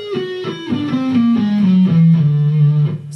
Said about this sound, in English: So this is a whole tone scale, which sounds like this.